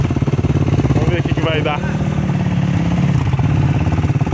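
Two motorcycle engines, a 450cc and a 400cc, strain against a Volkswagen Beetle 1300 in a tug of war, a loud continuous engine drone with someone talking over it.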